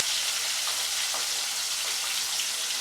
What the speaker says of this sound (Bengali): বন্ধুরা, এবার মাছগুলো ভাজা করবার জন্য কাটছি।